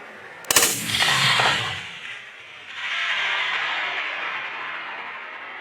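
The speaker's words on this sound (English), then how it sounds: "Here is Dion's shot again in slow motion" A single rifle shot fired at a Himalayan tahr bull on public land cracks sharply, then rolls into a long drawn-out boom and echo stretched by slow-motion playback, with no talking.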